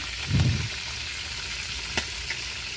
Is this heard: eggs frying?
yes